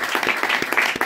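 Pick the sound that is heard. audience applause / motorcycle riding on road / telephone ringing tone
audience applause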